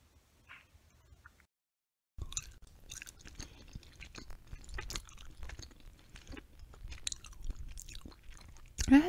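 Close, wet chewing of a Harry Potter jelly slug candy, soft squishy mouth sounds that begin after a quiet pause and continue steadily, with occasional small clicks.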